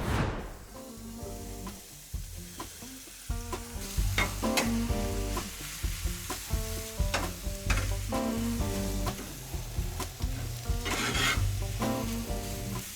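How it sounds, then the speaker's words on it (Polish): Chicken and onion sizzling in olive oil in a frying pan on a grill, a steady crackling fry punctuated by repeated stirring scrapes, close and alone. "miło patrzeć na tą cebulkę skwierczącą w delikatnej oliwie"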